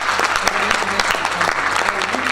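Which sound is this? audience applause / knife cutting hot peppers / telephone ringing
audience applause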